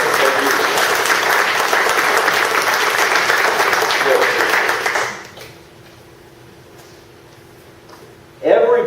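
A meeting audience applauds board members with steady, dense clapping for about five seconds, then it stops abruptly into near quiet before a voice starts.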